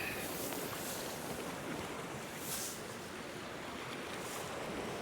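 Sea swell and waves wash off a cold coastline at dusk, the wind now dropped. The sound is a faint, steady, broadband wash with no speech.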